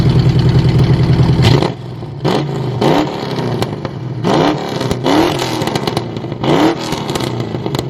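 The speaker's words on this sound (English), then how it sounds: "I'm gonna go ahead and do some revs, some full throttle pulls" A 1968 Mustang Fastback with a swapped Ford Coyote V8 barks through a loud, aggressive exhaust with several sharp full-throttle revs, each rising then falling back to a rough, lumpy idle, close and alone.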